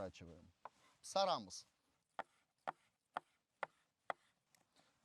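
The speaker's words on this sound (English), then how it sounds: "The onion is already chopped." Knife chopping onion on a board for Crimean Tatar sarma, a run of sharp, evenly spaced chops close by, following a brief burst of speech at the start.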